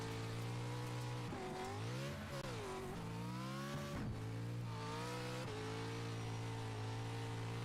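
Race cars in a sim racing game, Roush Performance eSports entry, drone steadily at high revs with rising and falling engine pitch through gear changes and cornering, one car close and loud with no talking.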